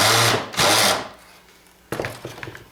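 A power screwdriver whirs in two short bursts while backing small screws out of an air conditioner being dismantled for scrap, followed by faint metallic clinks and rattles, close by with no talking.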